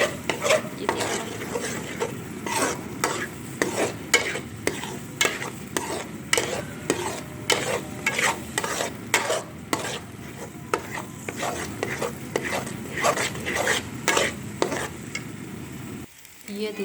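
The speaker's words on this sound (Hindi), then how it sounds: "अब हम इसे 1 मिनट तक और भूनेंगे" Almond halwa roasting in a karahi, stirred with rapid repeated scrapes and clinks of a spoon against the pan over a soft frying hiss, close and rhythmic, stopping briefly near the end.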